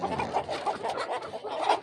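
A black Chinese chicken clucks in a steady run of short, close calls, with a busy farmyard murmur behind it and no one speaking.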